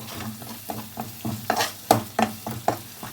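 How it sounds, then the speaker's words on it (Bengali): Salt and sugar being stirred into a vegetarian cabbage gravy in a pan, giving a series of close, uneven scraping strokes with soft sizzling underneath and no talking. "এখন নুন আর চিনিটাকে আমি এই গ্রেভির সাথে একটু ভালো করে মিশিয়ে দেব"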